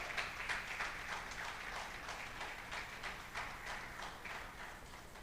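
A congregation claps together during a church service, a dense, steady wash of many hands at moderate distance, sustained without a break.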